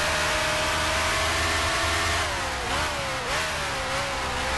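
A 1965 BRM racing car with a six-speed gearbox in Grand Prix Legends: the engine holds a loud, steady, high-pitched howl that dips and rises with shifts and throttle changes.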